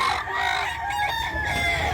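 Roosters crowing and chickens clucking among birds offered for sale at a market in Mantalungon, Barili, Cebu, a moderately loud crow with overlapping clucks, a little distant in a busy outdoor setting.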